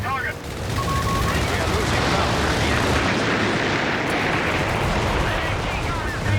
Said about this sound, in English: Oh, big Nebelwerfer shot there.